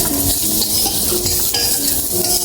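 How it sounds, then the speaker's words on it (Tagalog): Garlic and onion sautéing in a pan for Filipino-style ginisang sardinas, with a steady close sizzle and frying hiss under the clatter of a utensil stirring against the pan, continuous for the whole stretch without speech. "nagisa na ako ng bawang tsaka sibuyas"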